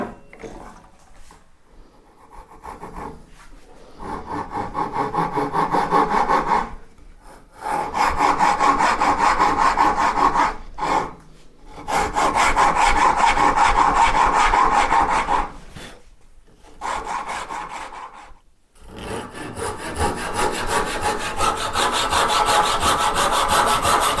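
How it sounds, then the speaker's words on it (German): Hand saw cutting a wedge-shaped notch into wood while making a bow tillering tree, with long rhythmic rasping strokes in several bursts separated by short pauses, close and loud with no talking. "Das passiert mit einer Säge."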